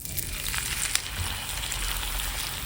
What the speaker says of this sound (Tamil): மாமாக்கோசரம் வறக்கிற மீன் இது